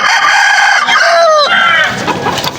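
A White Kelso bull stag rooster, about 12 months old, lets out a loud, close crow with a wavering drawn-out tail, heard at a busy outdoor spot in Malolos, Bulacan.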